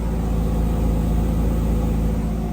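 A Mercedes W124 engine idles on a cold start with a steady, low rhythmic chugging, running continuously at moderate loudness with no voices.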